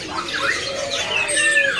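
A caged cililin bird at a bird seller's gives a run of bright, high chirps and whistled notes, close and clear, with faint talk in the background.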